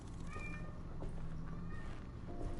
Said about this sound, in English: My cat replied.